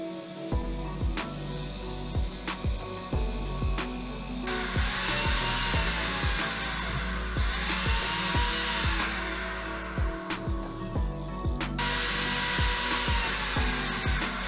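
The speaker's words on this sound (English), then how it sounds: "I'm going to drill 2 more holes." A power drill bores holes into a motorcycle brake line banjo bolt, a sustained high whine that cuts in and out, with repeated sharp clicks and knocks throughout and no voices.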